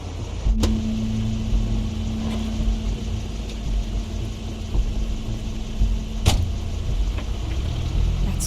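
Car sound in The Wolf Among Us video game, a steady low engine rumble with a humming tone and a couple of sharp clicks, no talking.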